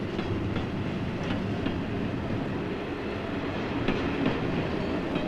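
A train runs on rails with a steady, loud rolling rumble and recurring rhythmic clacks of wheels over track joints throughout, with no voices.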